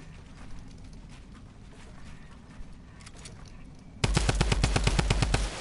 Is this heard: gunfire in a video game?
yes